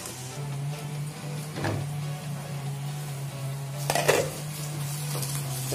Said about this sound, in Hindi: अब हम इसे सारी चीजों को मिक्स करके एक दो मिनट तक पकाएंगे।